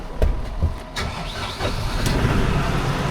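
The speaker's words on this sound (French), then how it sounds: "Je vais relever le tracteur." A farm tractor's engine catches with a few rough thumps and then settles into a loud, steady, low rumbling idle close by as the tractor is raised.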